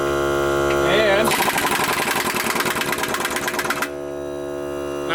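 Air impact wrench powered by a small cordless air compressor hammers off a car's lug nuts, a dense rapid rattling burst of about two and a half seconds standing out over a steady motor hum.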